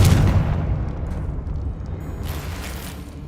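A Confringo spell blast in Hogwarts Legacy rolls out as a loud, low rumbling roar that starts strong and slowly dies away over about three seconds.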